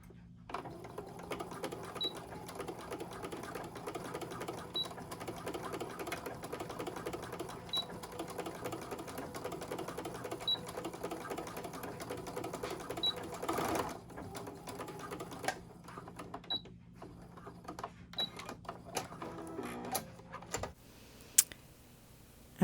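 A home sewing machine stitching scrunchie fabric back and forth, a steady close mechanical whir with rapid needle ticking that runs on and pauses briefly near the end, alone without talk.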